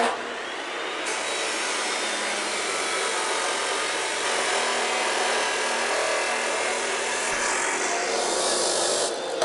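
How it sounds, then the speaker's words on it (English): A power saw cuts bandsaw blades to length for a Damascus steel billet, giving a loud, continuous, steady grinding whine that holds for several seconds and then stops abruptly. "Now I got to cut everything to length."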